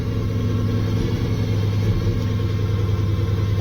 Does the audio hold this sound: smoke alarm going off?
no